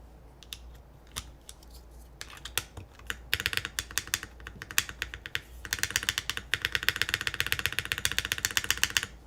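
Close, rapid clacky keystrokes on a custom mechanical keyboard. The typing starts in sparse taps, then thickens into dense, fast bursts with no talking.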